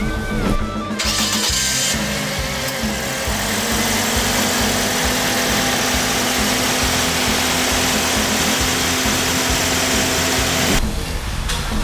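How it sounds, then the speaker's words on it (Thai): A used 2016 Toyota Yaris 1.2 engine starts and runs steadily at idle, a low continuous rumble with a brief rev near the start and end, close and fairly loud. "เดี๋ยวผมมาลองสตาร์ทเครื่องยนต์ให้ฟังเสียงกันดูนะครับ"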